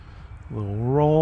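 An E-flite T-28 1.2m RC airplane flies at the WMAA field, its motor whine swelling in after a quiet start and rising steadily in pitch over about a second.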